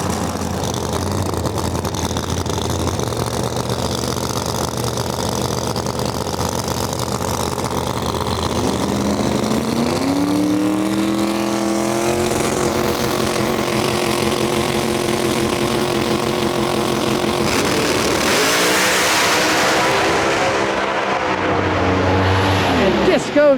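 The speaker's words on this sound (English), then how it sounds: "Disco Dean driving that Trans Am there in the right lane" Drag racing cars, one of them a newly finished Trans Am, roar at National Trail Raceway with loud sustained engine noise, and pitch sweeps rise as they accelerate down the strip, while commentary carries on over them.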